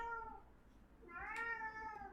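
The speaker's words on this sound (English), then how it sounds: "And now you're meowing again." A cat meows twice, drawn-out, tonal cries close to the microphone, the second longer and louder, over a low background hum.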